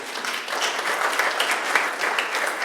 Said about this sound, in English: I think we should all give him a round of applause for that.